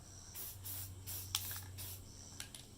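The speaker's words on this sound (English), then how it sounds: "Just a couple sprays. Doesn't take a whole lot." Spray paint hissing from an aerosol can while a gun magazine gets a camo finish, four or five short close bursts in a row under a low steady hum, with no one speaking.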